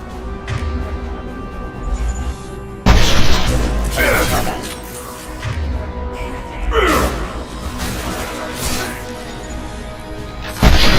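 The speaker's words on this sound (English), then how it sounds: "A misplaced shot could cause a significant explosion." Crates of unstable materials exploding in the video game Mass Effect 2, a loud sudden crash and boom followed by another burst later, mixed with in-game voices and gasps.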